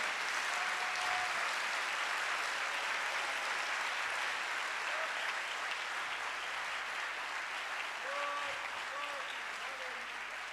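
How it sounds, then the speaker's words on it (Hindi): Loud, sustained applause fills a Sunday church service, a dense wash of clapping from the congregation that holds steady throughout with faint tones and murmurs underneath. "जोरदार तालियां यीशु मसीह के लिए।"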